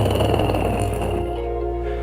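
A voice imitates the sound of fur with a soft, breathy, rustling hiss layered over a low rumbling hum, close and steady for about two seconds.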